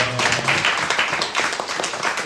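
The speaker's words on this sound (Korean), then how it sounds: "와, 박수로 축하하겠습니다." A high school church youth audience at Sunday worship claps in congratulation, a short, uneven burst of hand claps that swells and fades.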